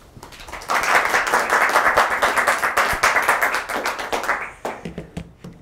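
A bookstore audience claps warmly to welcome author Tom Rob Smith, a dense burst of applause that swells quickly, holds for several seconds, then thins into scattered claps.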